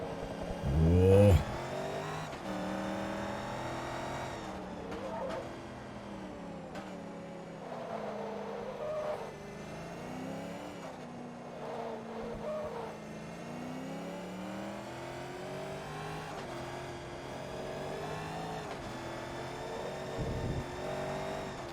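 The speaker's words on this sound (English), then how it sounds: "Right, I win the drag race from Davis" Corvette race cars in Forza Motorsport 2 on a touring race circuit, engines revving and shifting through gears with wavering pitch, a loud burst early, then sustained steady engine drone throughout.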